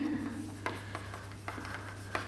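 Chalk or marker writing a short English sentence on a classroom board, light scratchy strokes in quick irregular bursts over a low steady hum, close and quiet.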